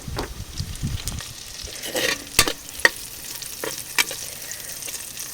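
Fried fish sautés in oil with garlic and onion, giving a close crackling sizzle broken by sharp scraping stirs and a few distinct knocks of a utensil against the pan.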